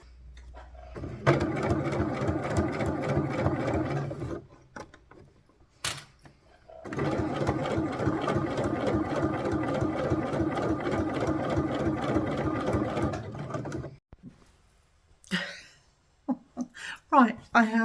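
Sewing machine stitching binding onto a quilt, a loud steady mechanical whirr in two long runs separated by a brief pause, ending with a few short stop-start bursts.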